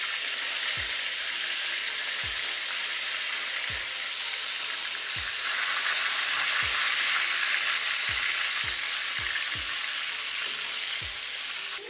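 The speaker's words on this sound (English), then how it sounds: "now you just put it to sit up to fry" Jamaican bangamary fish fries in hot oil with a loud, continuous hiss and crackle, broken by a few soft low thumps, close by and with no speech.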